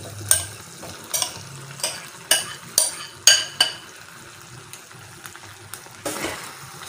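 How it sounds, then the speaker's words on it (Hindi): Chicken macaroni is stirred in a sizzling pan. A spoon scrapes close and loud in about a dozen rhythmic strokes over a soft frying hiss, with no talking. "और इसको अच्छी तरह मिक्स करेंगे"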